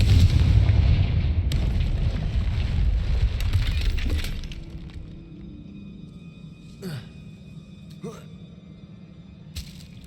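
A Confringo blasting spell goes off in Hogwarts Legacy, a loud sustained blast and crumbling rumble that cuts off abruptly, followed by quieter ambience with a few sharp debris clatters.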